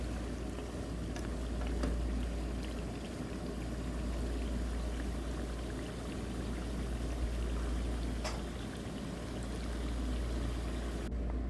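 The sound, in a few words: water poured into pot of chicken nihari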